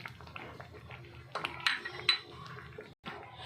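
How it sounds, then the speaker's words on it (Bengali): A spoon stirs ground chili flakes and five-spice powder into a mango pulp mixture in a pan, with repeated light metallic clinks and scrapes up close. "এবার এটা আমি খুব ভালোভাবে মিশিয়ে নেব"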